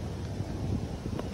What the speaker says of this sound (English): It's just that it's too windy when we come.